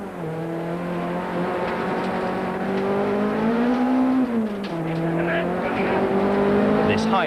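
Volkswagen dealer Team Golf rally car, Class B, heard from inside the cabin as its engine drones steadily with rising and falling pitch through gear changes, with a narrator talking over it throughout.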